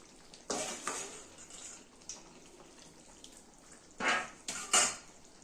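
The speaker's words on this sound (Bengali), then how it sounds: "এবার জল দিয়ে দিতে হবে" Water poured into a pan of simmering chicken kasha in a home kitchen, producing a few short splashing bursts and hisses with clinks of utensils against the pan between quieter stretches.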